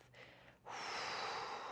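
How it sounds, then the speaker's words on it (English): A single deep breath is pushed out through the mouth, a long, soft, airy exhale that starts after a brief quieter intake and holds steady and close. "releasing the air through the mouth"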